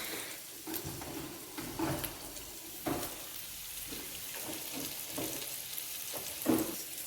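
Paella ingredients frying in a pan are stirred, giving a steady close sizzle broken by a few scraping stirs and light clinks of the utensil against the pan. No one speaks.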